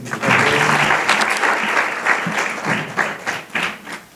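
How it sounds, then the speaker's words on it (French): Steady audience applause at a Francophonie week ceremony in Burundi, a full, continuous crowd of clapping hands that holds throughout with small swells and dips. "Applaudissez encore une fois"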